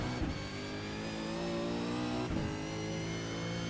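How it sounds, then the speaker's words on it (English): A V8 race car at Sandown circuit brakes and drops down the gears, its loud engine note roaring continuously with two sharp blips as it downshifts, heard without talk. "braking back through the gears, nice and tight, big chunk, brake, get down the gears"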